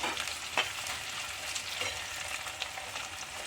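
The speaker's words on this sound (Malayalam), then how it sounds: "ഇനി ഒരു ചെറിയ സബോള നന്നായി ഇളക്കാം" Small onions and a chopped onion fry in an oiled pan while being stirred, a steady soft sizzle with light scraping strokes of a spoon, close and moderately quiet.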